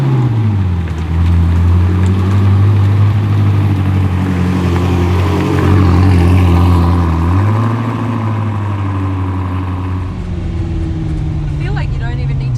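A 1,750-horsepower car accelerates hard, its engine roaring loud and close with a deep, rising drone that climbs, dips at a shift and climbs again before easing off.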